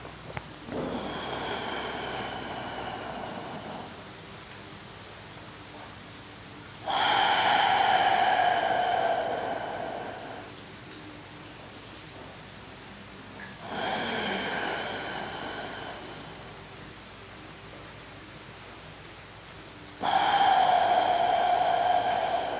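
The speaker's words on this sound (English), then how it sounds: "I'm going to call this box breathing" Controlled box breathing from a martial arts breathwork routine: long audible inhales and exhales, each followed by quiet holds, repeating in a slow, even cycle close to the microphone with no talking.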